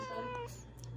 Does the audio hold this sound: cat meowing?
yes